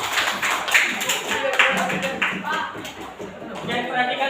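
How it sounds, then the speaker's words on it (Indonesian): A classroom of students claps for a classmate, a scattered, uneven patter of hands that runs throughout, with some chuckling and voices mixed in. "kita kasih aplaus dulu untuk Alisa"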